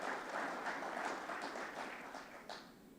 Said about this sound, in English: Also a hand of applause for WEB and Elmar.